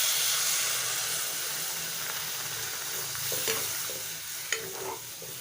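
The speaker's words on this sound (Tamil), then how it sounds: "இது எல்லாத்தையும் நல்லா வதக்கிக்கலாம்." Onions and other ingredients sauté in a hot pan for paruppu urundai kulambu, a South Indian lentil dumpling curry, giving a steady close sizzle broken by occasional spatula scrapes and clinks as they are stirred.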